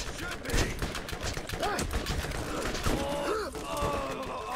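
Enemies fire at the player in the video game Borderlands: scattered, fairly faint shots and impacts crack through a busy game soundscape at irregular intervals.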